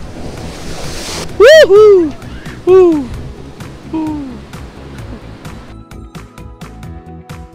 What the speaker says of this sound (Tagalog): kung gaano kalakas yung alon.